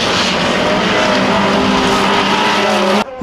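Modified front-wheel-drive VAZ race cars roar around an autocross track, engines straining at high revs in a loud, continuous blare with tyre noise, cutting off abruptly just before the end.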